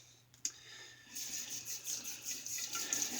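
A faucet turns on and tap water runs to wet a shaving brush, starting with a small clunk, then a steady close splashing flow that grows louder, with no talking.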